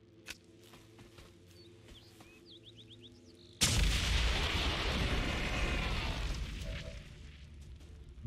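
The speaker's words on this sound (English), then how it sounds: "Don't know what that was that went up on the secondary part of that explosion, but man, it looked neat." A large video-game explosion erupts suddenly after quieter ambience, a loud booming blast with a long rumbling tail that slowly fades.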